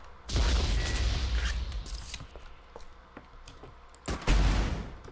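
Explosion sound effects from the video game ADACA: two loud, full-bodied blasts, the first rolling into a long crackling decay and the second erupting sharply near the end.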